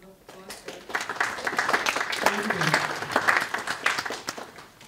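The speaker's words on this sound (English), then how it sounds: "So give her a round of applause." A college audience gives a warm round of applause for a woman introduced before a Holocaust survivor's talk. The clapping is mixed and moderately loud, swelling and then tapering, with some voices heard through it.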